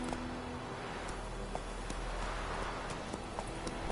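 Roach, a horse in The Witcher 3, runs with a quick, steady clip-clop of hooves over a constant wash of game ambience.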